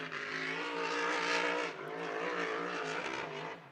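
Loud, high-pitched hydroplane race boat engine whine with harmonic overtones at Seafair, revving hard and dipping briefly before surging again, close and sustained with no talking.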